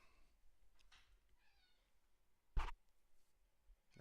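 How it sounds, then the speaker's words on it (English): A cat gives a couple of faint, distant meows in a quiet room, followed later by a brief sharp clatter. "There's the cat."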